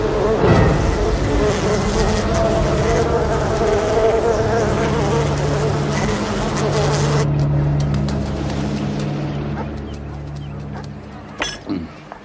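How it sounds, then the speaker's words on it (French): A dense, steady drone of honey bees (Apis mellifera) fills the whole stretch, loud and close, settling a little quieter toward the end as a brief clink sounds. "La variété d'abeilles domestiques la plus courante dans ce pays porte le nom d'Apis mellifera."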